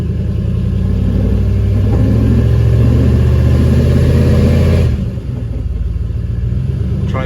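A turbocharged 6.0 LS V8 in a caravan with a 4L80E transmission, revved with the brakes locked, holds a loud, steady droning rumble. The tone drops off and changes near the end as the revs settle.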